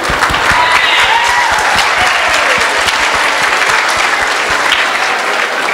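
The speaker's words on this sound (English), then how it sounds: "Can we give a round of applause for them," A crowd at a school STEM conference keeps up a loud, steady applause throughout, a dense patter of many hands with no talk over it.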